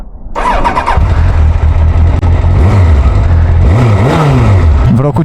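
A 1996 Honda CBR motorcycle engine cranks and catches, then idles loudly close by with several rising revs, the pitch swooping up and falling back between blips.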